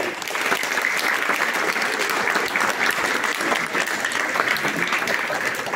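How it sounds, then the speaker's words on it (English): A crowd at a peace walk gathering gives the artwork winners a sustained round of applause, loud, dense and even throughout. "Big round of applause for them as well"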